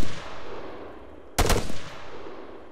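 A single gunshot burst rings out in the Arma 3 alpha during a firefight. It comes as one sharp, loud crack with a short tail, over a quiet background, and no one speaks.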